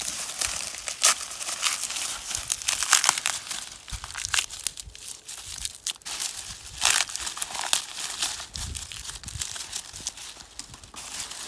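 Dried corn husks are peeled and handled close by, making crisp, irregular crinkling and crackling rustles in bursts, with no talk.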